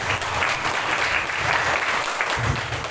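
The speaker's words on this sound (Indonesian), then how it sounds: "Tepuk tangan untuk Rasulullah." Audience applause for the Prophet at a Maulid celebration in a school hall, a dense, steady burst of clapping from a crowd lasting throughout.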